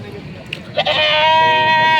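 A single loud, drawn-out bleat from a goat close by, rising out of quiet background murmur.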